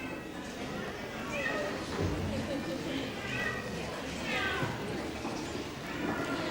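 Cats meow from several directions in a hall at the Edinburgh and East of Scotland Cat Show, with repeated cries rising over a steady crowd murmur and voices throughout.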